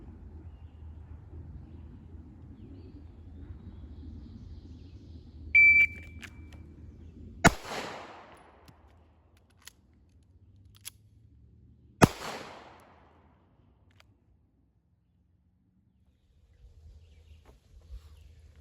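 Two sharp pistol shots from a SIG 365 ring out several seconds apart during a reload drill, each followed by a brief decaying echo, with quiet handling noise and a faint beep between them.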